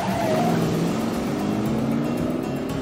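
A 1968 Dodge Charger V8 engine from the film Vanishing Point roars steadily at close range, a continuous loud rumble with a slight rising pitch and no voices.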